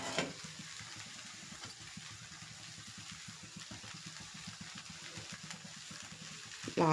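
A spoon stirs and mixes poha upma in a pan, a soft repetitive scraping and gentle sizzle running steadily at low volume, with no talk.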